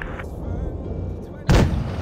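A tank gun firing a shell in World of Tanks Blitz from an STA-1, a single sharp loud blast near the end after a steady low engine rumble.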